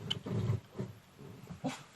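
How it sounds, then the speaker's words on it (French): A dog whimpers in a few short, uneven whines that come and go through the two seconds, fairly close and with no speech over them. "Accompagné d'un chien fou"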